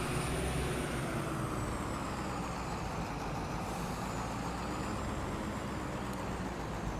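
A grain-hauling truck and trailer in Farming Simulator 22 rumbles steadily and close, a continuous low engine drone with faint high whine, holding constant loudness throughout with no talk.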